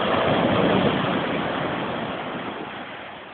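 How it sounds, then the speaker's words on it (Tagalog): Large sea waves break on a beach at Laiya, a loud continuous roaring wash that swells at first and slowly fades, heard alone without voices. "Kita mo naman, malalaki yung alon dito sa ano."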